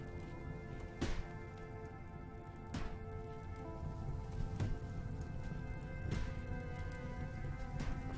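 Rain falls in the video game RimWorld as a soft, steady hiss, with a few sharper drop-like ticks scattered through it and no talking.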